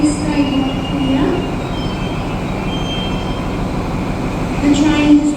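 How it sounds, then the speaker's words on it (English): A train stands at Albury railway station in New South Wales, giving a loud, steady idling rumble with a faint high squeal at the start and again near the end, with station ambience around it. "The train has arrived well early of the departure time so that staff can have time to ready the train for its journey northbound to Sydney."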